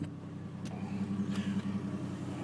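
A 2004 Chevrolet Trailblazer engine idles steadily at low volume with a faint, even rumble, heard alone for a couple of seconds.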